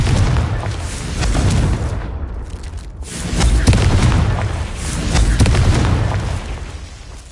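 Confringo spell blasts in Hogwarts Legacy, a series of loud, booming explosions rolling one after another with a dense rumble, a brief lull near the middle before heavier bursts return.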